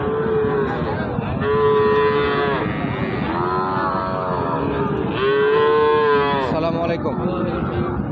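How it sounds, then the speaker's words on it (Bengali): Cattle low repeatedly at a busy rural cattle market, several long, loud moos rising and falling over a constant crowd murmur, with people talking in the background. "কয় পিস গরু নিয়ে আসছেন"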